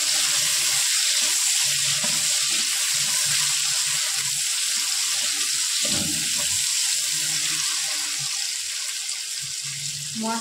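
Onions frying in a pan for a Bengali echor chingri (jackfruit and prawn) curry, a steady broadband sizzle with faint clinks and stirring scrapes, close and continuous with no talking.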